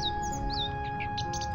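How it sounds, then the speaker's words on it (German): Cartoonish bird Cheep Cheep chirps in The Book of Unwritten Tales, a few short high tweets and trills over steady low game ambience, no voices. "Weil Cheep Cheep ist ja anscheinend nur am Zwitschern hier."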